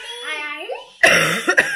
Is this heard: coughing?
yes